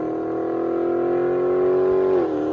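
A Dodge Charger Scat Pack 6.4L HEMI V8 revs up with a deep, rumbling exhaust, the pitch climbing steadily then dropping sharply as it lets off, loud and nearby.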